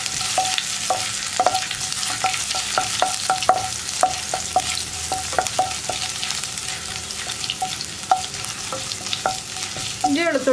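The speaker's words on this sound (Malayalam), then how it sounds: "ഇതൊന്ന് ചൂടായി തുടങ്ങുമ്പോൾ തന്നെ നമ്മൾ ചതച്ച് വെച്ചിരിക്കുന്ന ഇഞ്ചി വെളുത്തുള്ളി ചേർക്കാം" Crushed ginger and garlic frying in hot oil with cloves and cinnamon, a steady close sizzle with repeated light scrapes and taps of a spoon stirring the pan.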